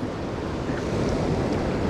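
Heavy ocean surf churns around a small fishing boat in stormy, typhoon weather, a steady loud wash of rough water with wind buffeting the microphone, no voices.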